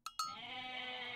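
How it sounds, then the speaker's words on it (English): Goats bleat in the Age of Mythology strategy game: two short quick bleats, then one longer wavering bleat that holds for about a second, clear but fairly quiet, with no talking. "Lots of goats."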